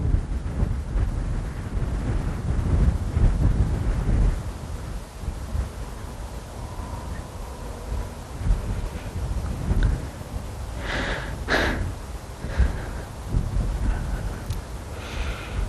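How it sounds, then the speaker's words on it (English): Steady low rumbling wind buffets the microphone throughout, with gusty swells and no talking. "It is windy, but it is going in the desired direction."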